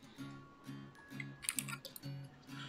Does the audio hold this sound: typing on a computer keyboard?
yes